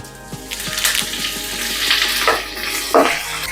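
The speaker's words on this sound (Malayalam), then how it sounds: "നമുക്ക് കറിവേപ്പില ഇട്ട് കൊടുക്കാം." Curry leaves crackle into hot oil with crushed cardamom, fennel, cinnamon and clove, a short burst of busy sizzling and spitting pops with a few stirring taps, close and fairly loud.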